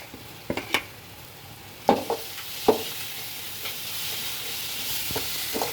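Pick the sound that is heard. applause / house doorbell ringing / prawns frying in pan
prawns frying in pan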